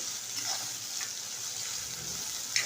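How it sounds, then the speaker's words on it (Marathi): Chopped onion and green chillies sizzle steadily in a pan over medium heat, a constant close frying hiss with faint stirring scrapes and no talking. "तर कांदा थोडा परतवायचा आहे गॅसच्या तिथे मध्यम ठेवलेली आहे"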